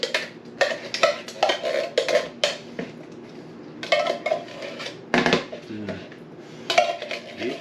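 Mixing bowl and two cans of pie filling clattering and clinking in a home kitchen while caramel apple dump cake is made, with a series of close, sharp dish and metal knocks in uneven bursts.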